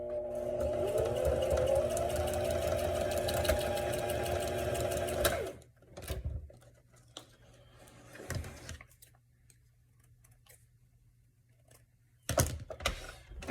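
A sewing machine stitches pieces onto a journal cover, a loud fast whirring run for about five seconds, then stops, followed by quieter handling noises and a couple of short bursts of stitching.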